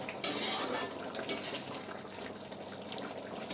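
A metal pot lid comes off a pan of cooking dhaniya chicken. It clinks sharply twice close by, over a soft steady bubbling and hiss from the simmering pot.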